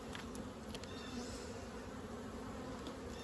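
Honeybees from an overwintered colony hum in a dense, close, continuous buzz during a hive inspection, with a few individual bees droning past nearby.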